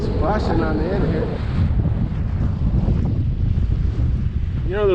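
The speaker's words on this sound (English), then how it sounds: "Splashing on the end here." Lake water sloshing and splashing against a boat hull amid heavy wind noise on the microphone, with a few faint tonal squeaks.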